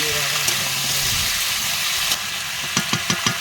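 Cubed potatoes and Malabar spinach fry and sizzle in a pan while being stirred, a steady hiss ending in a quick run of utensil scrapes, with a voice heard near the start.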